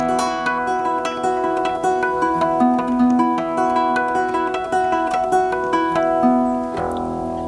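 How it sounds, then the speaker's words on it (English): A harp guitar plays a fingerstyle piece up to tempo, bright plucked notes and ringing harmonics in a steady rhythmic pattern, close and clear, ending on a sustained chord with no talking. "Now I'm playing this on a harp guitar"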